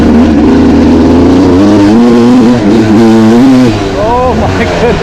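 A Yamaha YZ two-stroke dirt bike, a YZ125 or 1999 YZ250, revs and accelerates close by, its loud buzzing engine pitch climbing and dropping through several quick surges.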